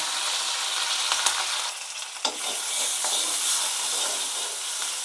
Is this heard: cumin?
yes